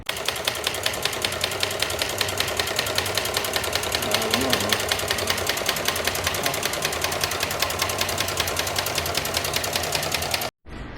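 Evolved Stirling engine with a spinning flywheel driving an alternator, making a fast, even mechanical ticking and whirring, steady and close, with a voice talking over it before a brief cutoff near the end.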